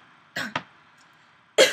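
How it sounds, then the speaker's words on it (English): Two quick coughs close to the microphone, followed by a louder third cough after a short pause. "I have like a little cough"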